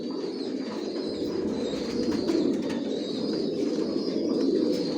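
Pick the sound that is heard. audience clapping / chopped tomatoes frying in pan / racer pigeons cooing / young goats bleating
racer pigeons cooing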